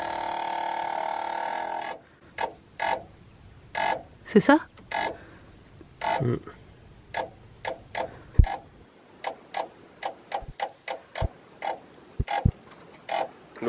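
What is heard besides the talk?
camper van battery isolator making mechanical noise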